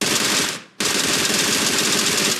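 Dense, rapid bursts of MG3 machine gun fire in PUBG Mobile, loud and sustained, briefly cutting out before resuming in a continuous stream.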